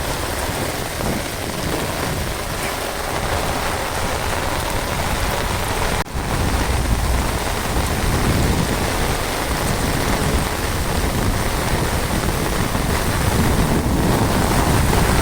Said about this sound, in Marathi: पाऊस बघा किती आलाय लय बेकार पाणी आलंय